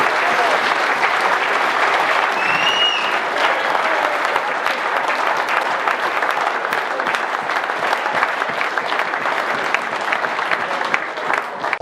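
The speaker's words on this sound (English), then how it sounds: "let's have a big round of applause for all of them" Dinner audience applauding the Busby Babes players, a dense, steady roar of clapping hands that holds at full strength throughout, close and continuous with no talk over it.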